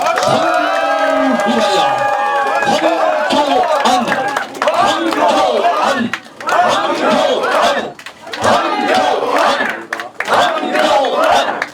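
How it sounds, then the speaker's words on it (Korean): A rally crowd greets party leadership candidate Hwang Kyo-ahn with loud cheering and chanting voices over clapping. Shouts rise and fall in surges with short dips and run throughout, close and energetic. "힘찬 박수 맞아주십시오"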